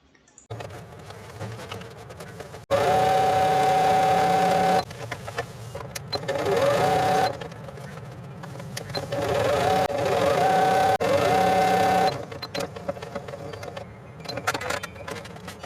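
Electric sewing machine stitching a double-pocket zipper purse, running in several long bursts of steady buzzing whir separated by short pauses, close and fairly loud.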